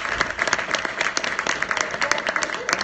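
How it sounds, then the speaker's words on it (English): A modest crowd at a WordPress meetup applauds a panel of speakers, scattered hand claps forming continuous, moderately loud applause with an uneven, crackling texture. "let's give them a round of applause"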